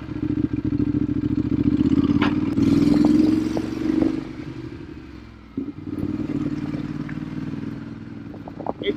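Ducati Hypermotard motorcycle engine running on a freeway ride, a loud, steady low rumble with brief throttle swells and clattering wind and road noise, close up and with no talk.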